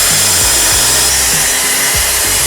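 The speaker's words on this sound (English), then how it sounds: "I'm gonna cut this angle at the same degrees as I did for the legs." A power saw cuts a 115-degree angle along a big piece of plywood for a desk top, a loud steady whine with the blade's pitch dipping and recovering several times as it bites through the wood.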